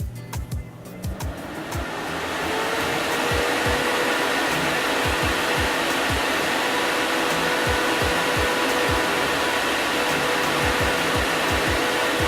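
Vortex S-Line 8-inch 728 CFM inline duct fan running, a loud, steady airy whoosh that swells up within the first two seconds and then holds constant, with faint intermittent clicks underneath.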